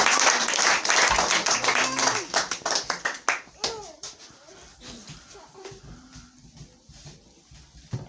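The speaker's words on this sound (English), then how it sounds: "Just clap to Jesus." Church congregation clapping in quick rhythmic bursts during worship, loud at first and then thinning, with voices calling out and singing over it.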